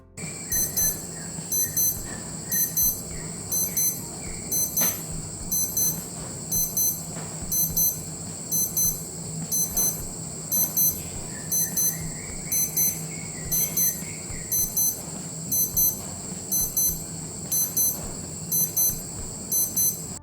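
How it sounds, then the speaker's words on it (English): Casio F-91W digital wristwatch alarm sounding a steady, repeating pattern of shrill electronic beeps, close and loud, with low background noise and no speech. "It's the same tone that's been starting mornings for 3 decades."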